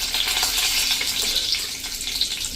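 Curry leaves dropped into hot oil where mustard seeds and asafoetida are already crackling, tempering for a traditional moong dal dish over a medium gas flame; a steady loud hiss and sputter of frying, close up, no voices.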